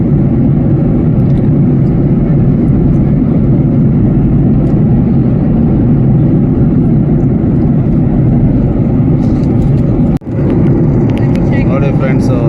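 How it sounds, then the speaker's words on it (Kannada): Inside an aircraft flying from Singapore to Japan in strong wind, a loud, steady low engine roar fills the cabin with a brief dip near the end, and faint voices sit beneath it. "ಸೊ ಫ್ಲೈಟ್ ನಾರ್ಮಲ್ಸಿಗಿಂತ ತುಂಬ ಶೇಕ್ ಆಗ್ತಾನೆ ಇದೆ ಇವತ್ತು"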